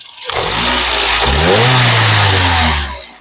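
A 2011 Toyota Etios G engine revs up loudly and holds a high, steady roar before dropping off, heard close with no talking.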